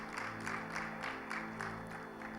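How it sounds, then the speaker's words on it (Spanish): Congregation applause at a Bible seminary class: quiet, steady clapping from a group, somewhat distant and muffled under a constant hum, with no talk over it. "Denle un fuerte aplauso al Señor"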